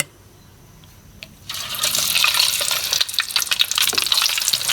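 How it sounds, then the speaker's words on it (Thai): Pork belly deep-frying for Thai crispy pork, a loud steady sizzle and crackle of bubbling oil that jumps up after a quiet start and keeps fizzing close to the microphone. "เราก็มาทอดให้มันแบบ ให้มันเหลืองๆนะครับผม"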